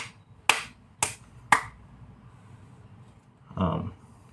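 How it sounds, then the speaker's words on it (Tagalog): Three sharp hand claps, close and evenly spaced about half a second apart, followed after a pause by a brief muffled sound. "palakpak."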